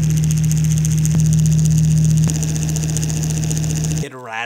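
A cheap handheld portable fan running on its lowest setting gives a steady low motor hum with a buzzing rattle and vibration. The drone is loud and close, and it cuts off near the end as a voice begins.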